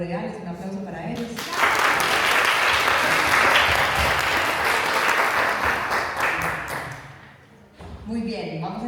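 An audience at an event breaks into a dense burst of clapping lasting several seconds, framed by a voice speaking into a microphone before and after.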